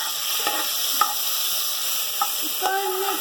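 Ginger garlic paste sizzles steadily in a hot oiled pan, a constant frying hiss punctuated by a few clinks and scrapes of a stirring spoon near the end, with no talking.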